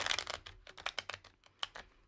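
Tarot cards being shuffled by hand produce a quick series of soft, papery riffling bursts and clicks, close and fairly quiet, with short gaps between them.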